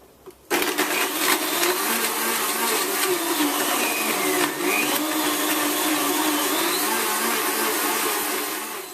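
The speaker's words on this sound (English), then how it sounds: "Blend on high for 40 seconds, or if you've got this blend deck, press 2." A countertop blender running on high while making a fruit smoothie, switching on abruptly after a brief quiet moment and then roaring steadily and loudly with a whirring motor and churning contents until the end.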